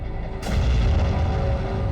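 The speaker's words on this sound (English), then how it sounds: "And this explosion is worth its weight in gold." A huge 5,000-pound explosion set off by the MythBusters team roars as a loud, sustained blast, a low rumbling boom swelling after the first half second and holding strong to the end.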